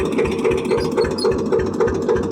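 A tractor engine runs unattended at low throttle in a farm field, a steady rhythmic mid-pitched chugging that stays even and close, heard alone.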